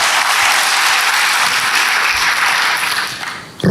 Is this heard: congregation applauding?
yes